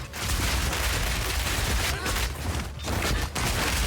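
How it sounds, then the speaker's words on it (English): In Path of Exile 2, an artillery Tactician build fires grenades and mortars that explode in a dense, loud, continuous barrage. The booming and crackling barely lets up, dipping only briefly between volleys. "They all fall to the mortars."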